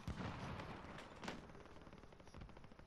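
Gunfire in a battle royale video game, a dense stream of shots and booms for the whole three seconds with a sharp burst near the start and another in the middle, fairly loud and continuous.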